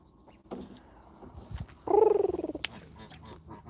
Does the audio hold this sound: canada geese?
yes